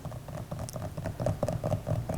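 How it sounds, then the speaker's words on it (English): Light taps on a bowl of plaster and water, a quick series of soft knocks and pats repeating steadily at close range with no voices. "You give the bowl a little bit of a tap to help it along."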